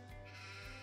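Sheep bleating in the farming video game Farming Simulator 22, two short bleats over a steady low background hum, quiet and alone.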